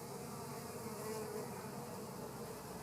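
Honeybees feed on sugar water, giving off a dense, continuous, close buzzing hum that stays steady and quiet throughout, with no voices.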